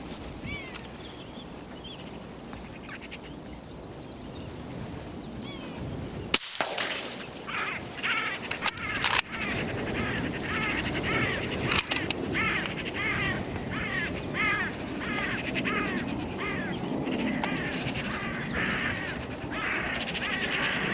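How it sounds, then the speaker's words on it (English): Flock of hooded crows calling agitatedly in open country around lambing sheep, with many overlapping harsh caws repeated in quick bursts, some near and some farther off, over a steady background wash. "As you can hear, the rest of the birds are going nuts."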